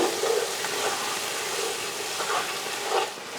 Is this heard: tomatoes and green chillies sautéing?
yes